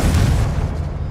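Confringo fire spell exploding in Hogwarts Legacy, a single loud, deep boom that rumbles and fades over about a second.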